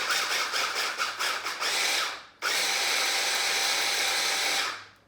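A food processor whirs loudly in quick bursts, then runs in one longer continuous pulse before stopping, with a harsh motor roar and no talking.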